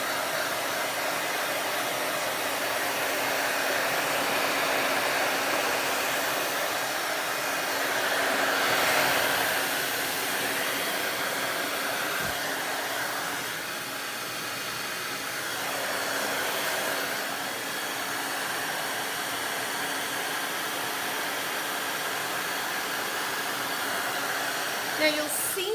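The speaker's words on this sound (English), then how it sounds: "Now you'll see me holding the blow dryer down on the paint" A blow dryer drying milk paint on an antique child's chair whirs continuously at close range for the whole stretch, its tone wavering slightly as it's moved about.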